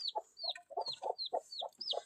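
A sick chicken clucks in a quick series of short, close calls, each with a brief higher note, repeating about six times in a couple of seconds.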